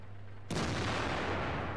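A single loud tank cannon shot booms in World of Tanks from a T-34-3 Tier 8 Chinese premium medium, cracking sharply and then rumbling and ringing on with a sustained heavy tail.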